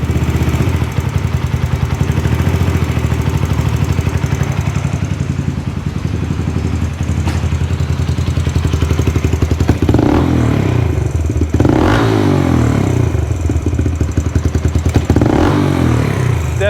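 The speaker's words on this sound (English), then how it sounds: "But it already seems like it's idling higher than what it was." A Yamaha Raptor 125 ATV engine idles high and steady close by, with a fast ticking clatter and a few slight swells in revs, and no voices.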